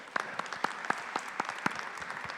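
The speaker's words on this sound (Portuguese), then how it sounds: "A Luciana, uma salva de palmas, ela é que organiza essa bagunça aqui" Sparse, scattered handclaps from a small audience at a business innovation forum, individual claps standing out distinctly over a quiet room, uneven rhythm throughout.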